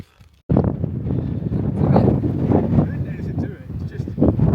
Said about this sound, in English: Yeah, but it's windy. It gets windy when you get.